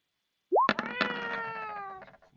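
A cat gives one loud, drawn-out meow at close range, rising at the start and then holding a strained, wavering tone for over a second before trailing off, with no voices over it.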